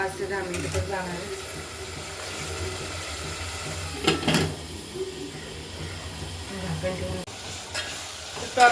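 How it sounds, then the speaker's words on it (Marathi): Tomatoes sautéing in hot oil for a prawn biryani, with a steady sizzle and repeated spoon stirring and scraping in the pan, heard close and continuous with a few sharper clatters. "टोमॅटो चांगला असा परतून झालेला आहे बघा, मिक्स होऊन गेलाय, तर तेल पण सुटायला लागले"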